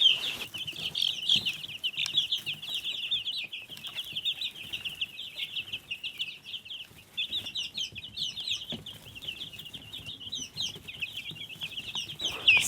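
A group of two-week-old Ranger chicks peeps constantly, high and shrill, with many overlapping chirps close by and faint handling noise, no voices.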